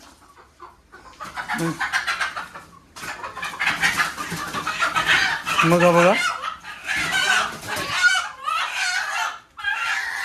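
Chickens cluck and squawk close by in a busy dhaba farmyard at Malshej, with a rooster-like crowing burst midway and people talking among them.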